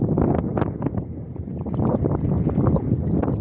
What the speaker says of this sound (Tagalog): Lakas na naman yung hangin